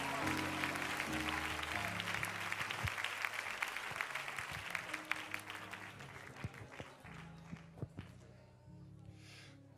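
A church congregation claps together during an Apostolic conference worship service, dense steady applause with music underneath that thins toward the end.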